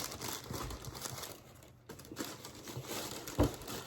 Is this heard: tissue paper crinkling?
yes